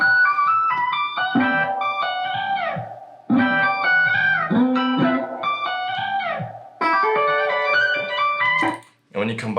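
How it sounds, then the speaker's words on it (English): Vocals pitched up an octave with formant shifting give a bright chipmunk-like singing line in phrases, with brief pauses between them. "you got this really unique, pitchy effect, which kind of sounds chipmunky, but in a natural way"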